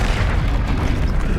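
Confringo fire spell exploding in the Hogwarts Legacy video game, a dense, loud, low rumbling boom that fills the moment without a pause.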